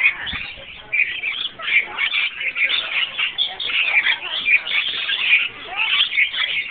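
Lorikeet at the OKC zoo perched on a person's head, giving repeated high chirps and squeaks in short bursts close to the microphone, with talk around it.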